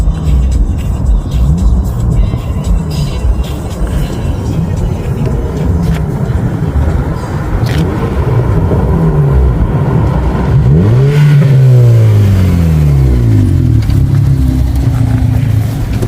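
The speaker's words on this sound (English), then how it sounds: "We're waiting for that lekker downshift" A boosted 188 kW Honda Civic FD revs hard nearby, a steady engine drone rising and falling before a sharp downshift blip near the end, with voices in the background.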